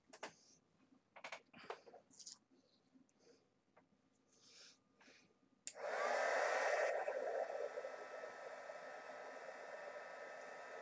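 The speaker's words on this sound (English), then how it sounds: "I'm going to heat emboss that" A heat gun switches on abruptly and blows a steady, loud whooshing roar while melting white embossing powder on paper, following a few soft handling taps and rustles.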